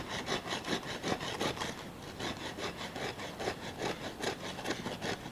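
A knife shaves fine curls off a wooden feather stick in quick rasping strokes, about a dozen close scrapes in an uneven rhythm with no voices.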